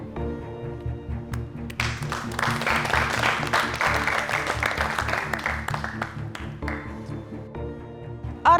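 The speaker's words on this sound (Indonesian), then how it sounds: "Orang berikutnya yang dipanggil adalah Sarjia. Tepuk tangan." A MasterChef studio audience claps as the next contestant, Sarjia, is called, applause rising after a couple of seconds into a full, steady round of many hands, then thinning out, with background music underneath.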